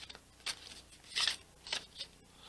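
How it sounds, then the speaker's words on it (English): Playing cards from a modified deck are shuffled by hand in a quiet room, giving several short, crisp riffling bursts separated by brief pauses. "Now let's see if I can shuffle on camera."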